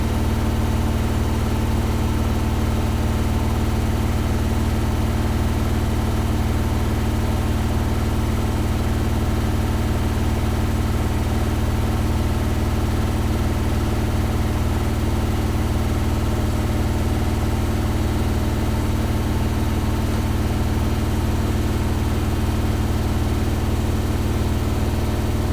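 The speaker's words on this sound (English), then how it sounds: "And now it's spinning up again to 1400 RPM." A Hotpoint HE7L492 washing machine spinning up to 1400 RPM with a suds lock, producing a steady, loud mechanical hum and drone that holds even throughout, with no talk.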